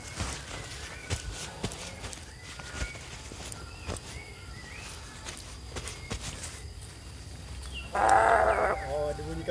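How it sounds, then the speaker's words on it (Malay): Goat bleating in an outdoor farm setting, a loud nearby bleat rising briefly near the end over footsteps, rustling and background animal noise. "Oh, ada bunyi kambing tu."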